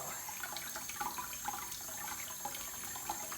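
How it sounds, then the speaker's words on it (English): Tap water runs through a strainer as dough is rinsed to wash away starch, a quiet, steady splashing trickle with small irregular spatters, heard alone. "we're going to use a strainer to wash away that starch."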